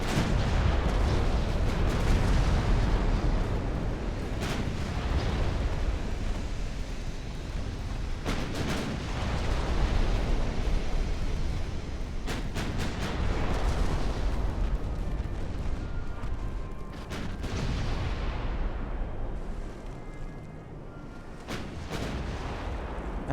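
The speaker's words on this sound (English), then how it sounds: "All batteries, fire!" Naval battery gunfire from warships in the game Ultimate Admiral: Dreadnoughts, a dense, continuous roll of heavy cannon booms and blasts overlapping for the whole stretch, loud and sustained with sharper volleys punching through.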